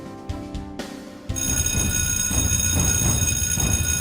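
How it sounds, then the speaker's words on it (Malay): An emergency fire alarm bell rings during a faculty fire drill, cutting in abruptly after a quieter start and then clanging on loud and continuous, with no voices. "ketenangan dan keceriaan waktu pagi dikejutkan dengan deringan loceng kecemasan yang membingitkan cuping telinga"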